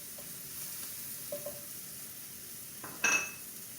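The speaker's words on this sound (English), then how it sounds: "We're going to start with our 2 chopped onions in with the butter and olive oil." Chopped onions and garlic sauté in butter and olive oil for a chicken tetrazzini, a soft close sizzle with a brief clink of a utensil against the pan near the end and no speech.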